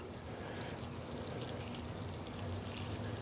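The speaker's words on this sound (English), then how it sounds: "All right, let's water this in." Water poured from a hose or can onto the soil of a potted citrus tree in a container, a steady close splashing and trickling stream that runs without a break.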